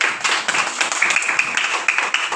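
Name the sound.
class clapping hands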